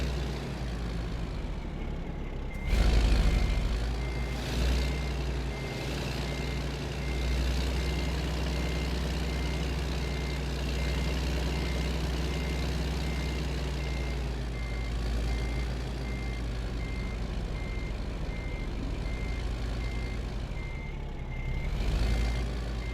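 A Kenworth K100 truck in American Truck Simulator backs into a loading bay, its reversing alarm beeping in a steady, evenly spaced rhythm over a constant diesel engine hum.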